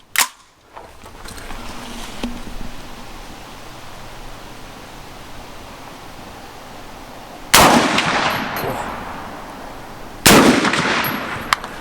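Three loud rifle shots from an Alexander Arms .50 Beowulf AR-15 at an outdoor range. The first comes right at the start and the other two are widely spaced near the end, each with a sharp crack and a long rolling echo, over steady wind and background noise.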